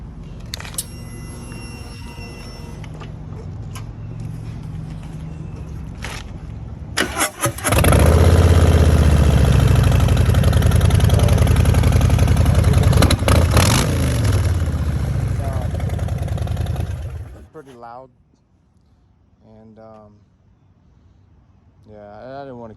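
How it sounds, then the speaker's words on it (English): A Harley-Davidson Street Bob motorcycle cranks and fires up, then settles into a loud, rumbling idle for several seconds before shutting off, with someone talking briefly before and after. "It sounds beautiful. Let me start it up for you."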